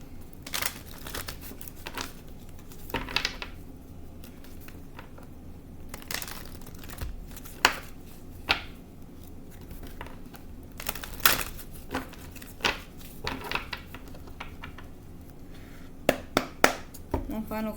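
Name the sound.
shuffling tarot cards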